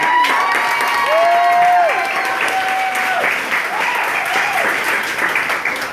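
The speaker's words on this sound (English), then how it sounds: "So give yourself a round of applause." An audience at a fan convention Q&A claps in steady, dense applause throughout, loud and close, with a few whoops and whistle-like tones rising above the clapping.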